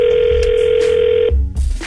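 A loud, close telephone ring tone sounds as a call is placed. A single steady tone holds for over a second, then breaks off into a burst of clicks and noise.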